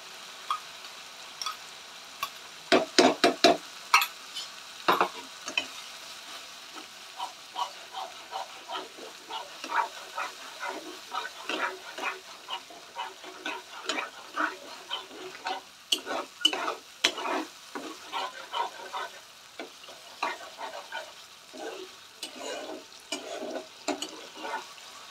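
A paste for rui posto fries in oil while being stirred, a low sizzle broken by frequent sharp scrapes and taps of a utensil against the pan, louder bursts early on.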